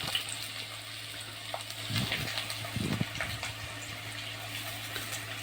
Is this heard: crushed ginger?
yes